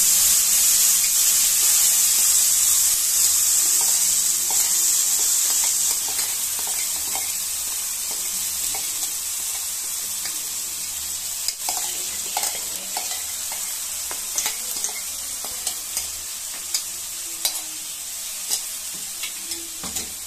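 Coriander and spinach paste with potatoes sizzles steadily in a frying pan for hariyali aloo dum, with a bright hiss that softens over time and is broken up by a spatula's irregular scraping and stirring strokes.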